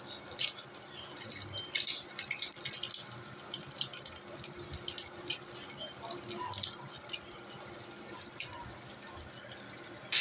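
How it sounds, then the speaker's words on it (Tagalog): Water is poured into a cooking pot for stone-style pansit with sardines, giving a splashing, dripping trickle with irregular bursts over several seconds, fairly faint. "nilagyan ko lang tubig"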